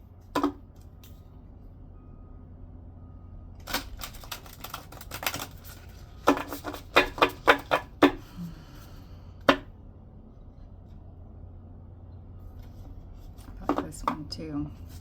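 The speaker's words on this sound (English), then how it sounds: "I shuffle them one more time." Tarot cards shuffled in quick crisp flurries of clicks, with a dense burst in the middle and shorter bursts around it, separated by quiet stretches.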